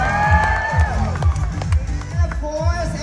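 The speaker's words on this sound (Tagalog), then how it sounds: "isang malakas na palakpakan na may kasamang hiyawan" An audience cheers and whoops loudly alongside clapping, with rhythmic low thumps repeating through the clip and a voice carrying over the crowd noise.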